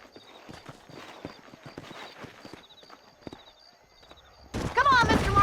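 Horse hooves clip-clop in the Red Dead Redemption video game: a steady, even trot of hoof knocks over faint tonal game music, until a sudden loud burst of game sound cuts in near the end.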